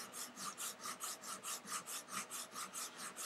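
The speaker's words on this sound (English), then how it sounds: "just kind of sanding it down like this until it's good and ready" Edges of a leather zip wallet are rubbed against 200 grit sandpaper laid flat on a board, producing rhythmic back-and-forth rasping strokes, about four per second, close and even.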